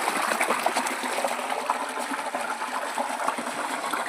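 Water gushing steadily from an opened tank tap, a dense continuous rushing and splashing flow, close and fairly loud with no break.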